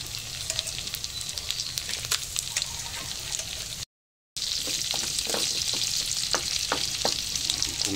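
Onion and pork sautéing in a hot pan for estofado: a loud, continuous close sizzle with scraping stirring strokes, briefly cut off midway before resuming just as strongly.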